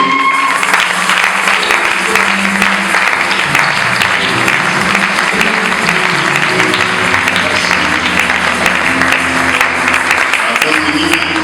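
Wedding guests at a nuptial blessing applaud the bride's maternal and paternal families, a loud, sustained wash of clapping that holds steady throughout, with voices mixed in beneath it.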